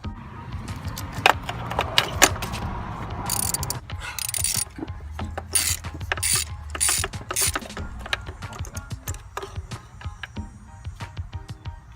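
A ratchet works a spark plug out of a 2001–2006 Ford Escape 3.0L V6 engine, a series of quick clicking pawl bursts in uneven strokes with short pauses, close and crisp with little else around.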